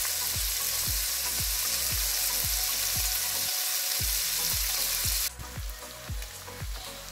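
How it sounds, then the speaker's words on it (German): Bacon rendering in a pan for a wild mushroom skillet, a loud continuous sizzle broken by regular rhythmic scraping strokes of stirring, with no voices. "Den Speck haben wir nun etwas ausgelassen."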